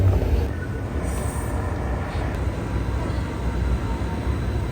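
Steady low rumble of a tram rolling along rails, continuous and fairly loud throughout, with faint high metallic squeal overhead and no talking.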